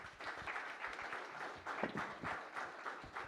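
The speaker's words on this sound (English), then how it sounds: "So whatever they have said, please join me in applauding their effort." A conference audience applauds a panel at a multipurpose event, steady dense clapping from a crowd filling the room, moderately loud and continuous throughout with no talk over it.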